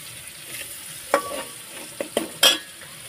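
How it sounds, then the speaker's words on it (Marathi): Onion, garlic, chili, tomato and spices sautéing in ghee with a soft sizzle, broken by several sharp scrapes and clinks of a spoon stirring the pan. "हळदी मसाला परतून घेते"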